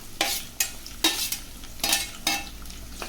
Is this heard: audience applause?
no